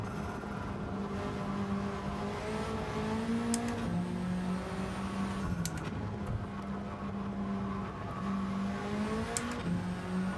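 Renault Twingo race car engine in Gran Turismo 7, revving up and down through gear changes as whining tones rise and drop repeatedly, a steady moderate drone with faint clicks over it.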